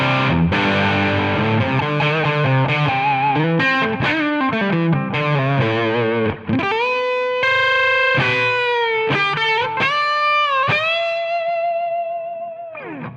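Electric guitar through a 2 Stone SS Ultimate amp with mid and deep switches on, playing a distorted, sustained riff of chords and held bending notes, loud and up close with no talking.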